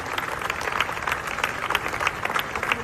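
A crowd at a protest of judges and prosecutors in Madrid applauds in dense, continuous clapping from dozens of people, steady and fairly close throughout.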